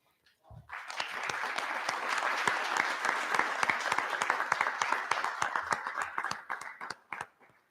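An audience at a school board meeting applauds a former student called up to the front; dense clapping starts abruptly, holds steady and near for several seconds, then thins out to a few scattered claps.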